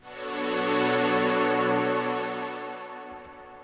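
Spacey synthwave synth melody built in FL Studio, a smooth sustained lead with big equalized reverb that swells in and trails off into a lingering wash, heard alone at moderate volume.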